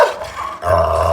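An aggressive, large dog on a loosely fastened chain growls with a low, continuous rumble that swells after a brief dip, loud and close, with no one speaking.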